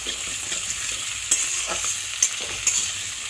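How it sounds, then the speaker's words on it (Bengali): Onion, green chillies and ginger paste stir-fry for a cabbage curry base, a steady close sizzle of hot oil with a few sharp spatula scrapes against the pan, no talk. "দিয়ে দেব সামান্য আদা বাটা দিয়ে এটাকে ভালো করে একটু কষিয়ে নিচ্ছি"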